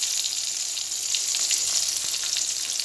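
Turmeric and chili powder spices frying in a pan, a steady close hiss of sizzling oil with faint stirring clicks throughout, no voices.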